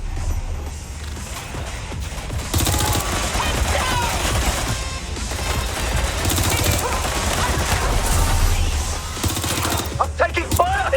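Sustained gunfire in the video game Watch Dogs: Legion, dense rattling bursts that run almost continuously and loud, with mechanical clanks and brief shouted voices near the end.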